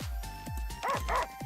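Dog woofing in the video game Goddess of Victory: NIKKE: a quick run of short, punchy barks with a couple of higher yips, close and clear over faint steady background music.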